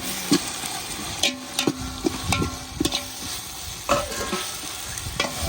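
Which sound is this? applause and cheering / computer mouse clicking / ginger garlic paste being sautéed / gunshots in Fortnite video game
ginger garlic paste being sautéed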